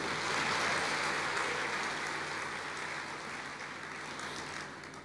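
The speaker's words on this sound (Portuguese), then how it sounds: "Pode se expressar e aplaudir o Senhor." A church congregation applauds during a sermon, giving a continuous soft patter of many hands that stays even and fairly faint, slowly easing off toward the end.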